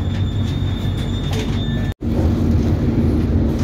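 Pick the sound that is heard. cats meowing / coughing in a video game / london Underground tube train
london Underground tube train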